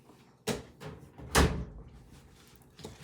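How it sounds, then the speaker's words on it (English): A dryer door is pushed shut with a soft thud, preceded by a lighter knock and followed by quiet handling noises. "I just shut my door to the dryer"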